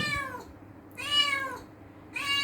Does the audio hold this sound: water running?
no